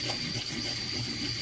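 Water poured steadily over a sharpening stone while a knife is being sharpened, a continuous splashing wash at close range.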